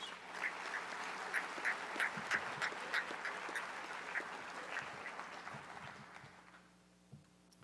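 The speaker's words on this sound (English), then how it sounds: "Let's give another round of applause for these awardees." Crowd applause for honorees at the McMurry 100 awards ceremony, with sharp rhythmic accents standing out over the steady clapping before it fades away, leaving a quieter room with one last brief knock.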